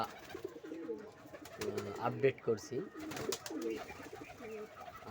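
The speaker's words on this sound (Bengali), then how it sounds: "এখানে আমার কবুতর প্লাস এদিকে আমার পাখির ঘর" Pigeons coo softly and repeatedly in a backyard pigeon and bird coop setup, their low calls running under someone speaking close by.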